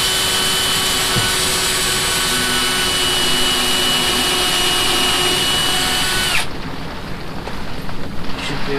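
A power drill drives screws into the frame of a solar hot water panel for an off-grid shower, a loud steady whirring for about six seconds before cutting off into quieter background noise.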